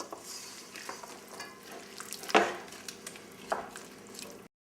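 Food frying in a pan just after being turned over, a soft continuous sizzle with a couple of sharper clatters from the pan, then a brief drop to silence at the end.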